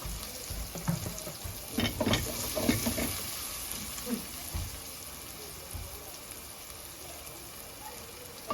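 Oil poured into a pan while preparing bringhe, a Filipino rice dish, giving a few soft splashing, crackling bursts early on that fade into a faint, steady hiss.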